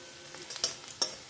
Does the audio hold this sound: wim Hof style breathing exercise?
no